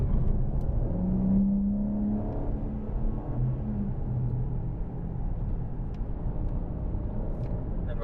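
A BMW M4 on a race track, its engine note rising as it accelerates, a low rumbling whir with a brief climbing tone, steady and moderately loud throughout.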